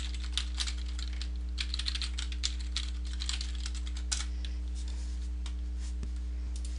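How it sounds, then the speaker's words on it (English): Quiet typing on a computer keyboard, a light irregular patter of key clicks over a steady low electrical hum, close and faint with no voices. "type in Visual Basic 2008. Then click on Google search."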